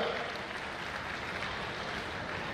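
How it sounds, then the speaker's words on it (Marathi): Steady, dense audience applause at a university youth festival prize-giving ceremony, moderately loud and unbroken for a couple of seconds with no voices over it. "आदरणीय डॉक्टर अशोकजी महाराज सर यांच्यासाठी जोरदार टाळ्या वाजवूया"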